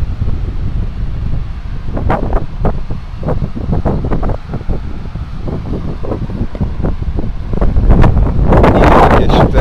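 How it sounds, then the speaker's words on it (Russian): Strong sea wind on a morning beach batters the microphone in loud, gusty buffets that swell toward the end, with surf noise underneath. "ветер этому особой помехой не является"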